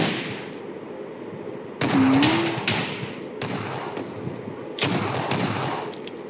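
Bursts of gunfire in an arcade short-gun match in a shooter game, from a long-range shooter: three loud clusters of rapid shots with quieter pauses between them, heard alone with no talk.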